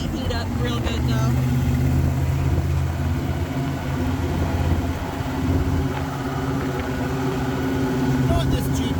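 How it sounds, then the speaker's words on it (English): A 1951 Willys M-38 Jeep engine runs steadily throughout, a loud, constant low drone with a strong rumbling hum that holds its level for the whole stretch, with people talking over it. "This Jeep is like riding a Harley Davidson. It makes a lot of noise"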